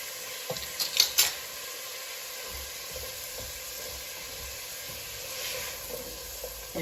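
Onion and garlic sizzle gently in a pan for leftover turkey soup, a soft steady hiss with a few brief clinks of a utensil early on, no talking.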